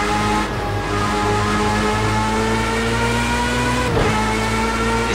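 A race car engine in Project Cars 2 drones at a steady, loud pitch with strong harmonic tones, shifting slightly as the revs change near the end.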